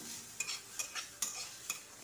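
Radish leaves and stalks stir-fry in a pan with a soft, faint sizzle, broken by several sharp scrapes and clinks of a spatula stirring at a steady pace.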